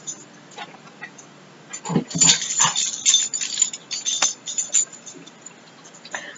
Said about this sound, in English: the other dogs are barking too.